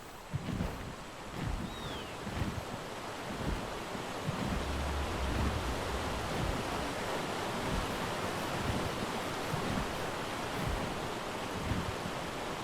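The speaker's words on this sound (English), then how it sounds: "the waterfall is super loud" A roaring waterfall in the video game ARK: The Island, a dense, steady rush of falling water filling the whole clip at constant loudness, with no speech.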